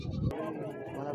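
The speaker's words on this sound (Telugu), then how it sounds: "లోకల్ మేకపోతా" A local billy goat at a busy weekly livestock market gives one short, loud bleat up close, then market murmur carries on behind it.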